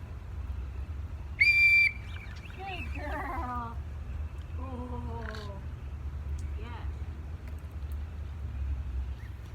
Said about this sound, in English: blow the whistle, she'll come around, and then she'll get food